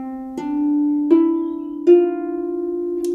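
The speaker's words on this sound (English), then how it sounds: "this one we're going to be playing with all our fingers" Three plucked harp notes, from a finger exercise played with all fingers, ring out in slow succession, each bright attack followed by a sustained, resonant tone, played alone.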